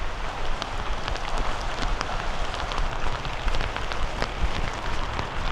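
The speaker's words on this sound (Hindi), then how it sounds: "बारिश की इंटेंसिटी आपको समझ आ ही रही होगी यार अब।" Heavy rain pours in the Andaman Islands, a dense, steady hiss of drops drumming on surfaces, loud and close, continuing without pause and with no voices.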